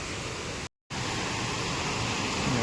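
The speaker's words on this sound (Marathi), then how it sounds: "मस्त वॉटरफॉल आहे" A waterfall rushes as a dense, steady roar of broadband water noise, broken only by a brief cut to silence near the start.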